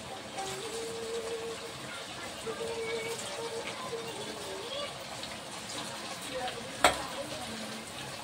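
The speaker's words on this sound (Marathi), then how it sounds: "ते पण फ्राय करूया।" Potato smiley snacks fry in hot oil, giving a steady close sizzle throughout with a faint tonal hum and one sharp clink near the end.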